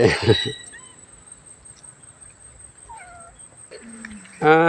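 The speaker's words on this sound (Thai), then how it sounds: "แมวเหมียวเด็กวัดแมวเหมียวเด็กวัด เด็กวัดใหญ่ เด็กวัดเก่า" Cats living at a Thai temple, with a few short meows scattered across quiet ambient background after a brief burst of noise, ending in a louder, closer meow.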